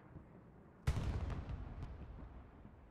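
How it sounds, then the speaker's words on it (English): A distant explosion in the World War II shooter game Hell Let Loose booms suddenly after a quiet stretch, its rumbling roar lingering and fading with scattered crackles. "Oh, big explosion off into the distance."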